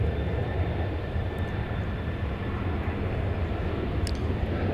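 Airliner arriving at DFW Airport from Shanghai, a steady, moderate jet engine drone with a faint whine, continuous and fairly distant, no voices.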